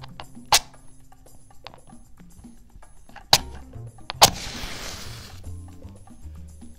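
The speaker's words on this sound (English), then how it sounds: "And we're gonna just light this match." A match being struck to light it, one sharp scratch followed by a brief hissing flare that fades, set among a few other small handling clicks and taps in a quiet room.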